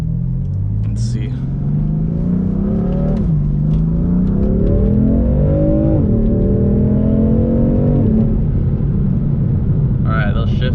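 A BMW M3 with a Bootmod GTS tune accelerates hard, its engine note climbing steadily through several quick gear shifts, each marked by a brief dip before the pitch rises again, loud and close inside the car.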